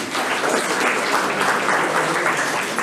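Steady applause from an audience at the opening of an art exhibition by retired academic teachers of the Academy of Fine Arts in Łódź, a dense, even clapping that holds for a few seconds.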